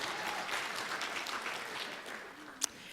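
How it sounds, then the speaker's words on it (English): Applause from an audience at a college equity summit student panel, a soft, even patter of many hands at moderate distance, with one sharper clap near the end. "Applaud that."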